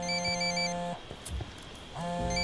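A mobile phone rings in the tactical shooter Ghost Recon Wildlands, a loud, steady electronic ringtone with repeated tones that breaks off for about a second and then starts again.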